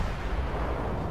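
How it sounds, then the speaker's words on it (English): Warship guns firing in the naval combat game World of Warships, a dense, continuous rumbling boom with no separate shots standing out, loud and close throughout the short span. "Now when you shoot, the shots will scatter a little bit, so they're not gonna hit the same spot every time."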